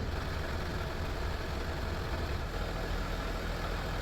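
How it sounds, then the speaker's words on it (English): Range Rover Sport with a 2.7 litre V6 diesel idling, a steady, smooth low rumble with no change in pitch or rhythm, heard alone at close range. "Engine, super smooth."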